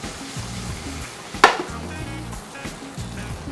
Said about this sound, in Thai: ตอนนี้ผัดเลยใช่ไหมครับ